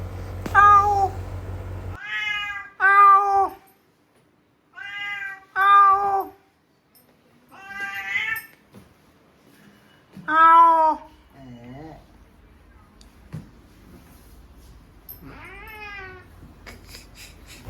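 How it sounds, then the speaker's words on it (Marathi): A cat brought in for grooming meows repeatedly in loud, drawn-out wails and caterwauls, spaced apart with quiet gaps, close by and with no talk over it. "आपल्याकडे आलेले ग्रूमिंगला कॅट, आपण त्याची मस्ती उडवतोय"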